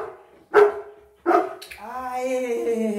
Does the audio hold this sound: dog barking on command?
yes